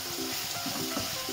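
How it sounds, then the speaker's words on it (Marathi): Raw ground masala paste fries in hot oil, giving a dense, continuous sizzle with soft stirring scrapes, close and steady with no talk. "कच्चं वाटण असल्यामुळे तेलावरती चांगलं भाजून घ्यायचं."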